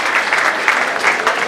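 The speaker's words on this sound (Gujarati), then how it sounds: "તેમને તાળીઓના ગણગણાટ સાથે વધાવી લઈશું." Audience at a mass wedding ceremony applauding to honour a donor family on stage, brief, loud, continuous clapping with no voices over it.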